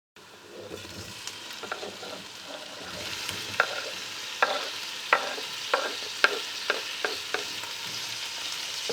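Roughly chopped parsley sautéing with onion in a pan for Turkish red lentil soup: a steady sizzle with regular sharp scrapes and taps of a spoon stirring, close and clear, no talking.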